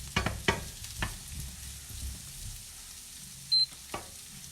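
Zucchini fries in a pan over raised heat, giving a soft steady sizzle with several close, sharp stirring knocks and scrapes of a utensil against the pan.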